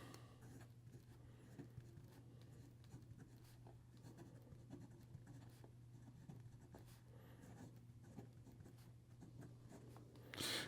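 A fountain pen with a Fude nib scratches across paper while writing, with soft, close strokes in irregular bursts and pauses over a faint steady background hum.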